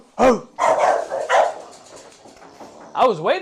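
Several dogs barking close by in a quick burst of loud, overlapping barks and yips, with a whining bark rising at the end.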